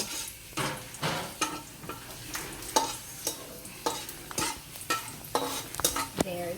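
Garlic frying in a pan, a quiet bed of sizzling punctuated by clear, rhythmic spatula strokes scraping and tapping against the pan roughly every half second, close up, with no talking.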